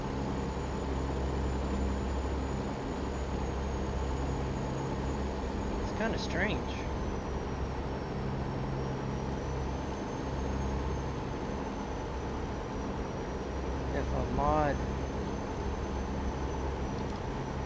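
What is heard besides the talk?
truck engine sound from video game American Truck Simulator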